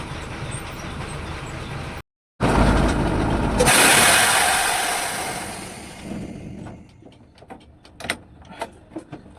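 A truck engine runs as it is parked at a company yard, loud and steady before fading to a low idle, followed by scattered clicks and knocks.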